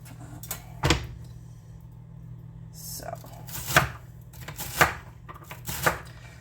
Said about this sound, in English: what we're going to start with is dicing up the celery and sauteing it